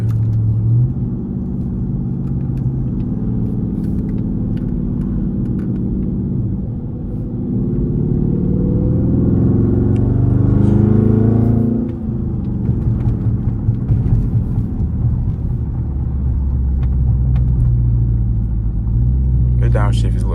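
A Dodge Charger R/T engine in track mode rumbles low and steady, then revs up with a rising whine and drops back down to a deep idle, loud and close.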